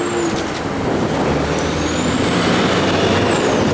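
Outdoor wind with rustling leaves, a steady broadband rush that holds throughout near a parked 1970 Chevrolet Chevelle SS396 convertible, and no speech.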